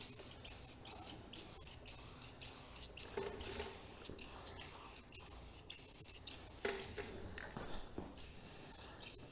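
Hissing bursts of Rust-Oleum spray paint coated onto a cheap used trailer, steady spraying broken by short pauses and repeated quick on-off pulses, close and fairly loud, with no talking.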